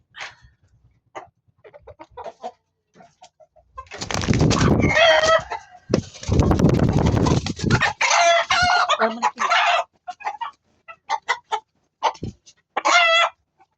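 Hens cluck and squawk up close while a rooster calls, with a loud flurry of scuffling and agitated squawks through the middle as the rooster mates a hen.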